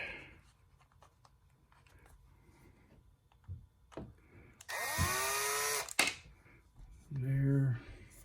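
Screws are backed out of the chassis rails of a TRX4 RC truck with a power driver, in two short whirring bursts between small clicks and handling noises.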